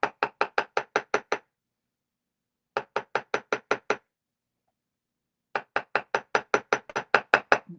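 Rapid metallic hammer taps on metal jewelry come in three quick bursts separated by pauses, sharp and close, each burst a steady rhythm of strikes.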